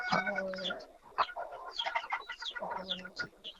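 Chickens cluck and squawk in a busy, irregular chatter, several birds calling close by with short bursts and a few longer cackles.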